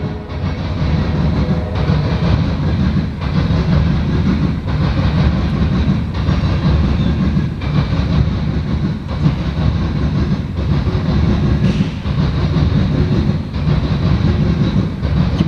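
A Norfolk Southern coal freight train hauled by AC44 locomotives rolls past in Marion, Ohio, with a loud, steady rumble and a continuous clatter of wheels on the rails lasting the whole time, close by and with no talk.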